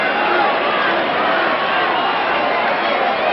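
Dense, steady crowd noise from a tennis audience at the 1995 US Open third-round match between Sampras and Philippoussis, a broad roar of cheering and applause sustained evenly throughout without pause.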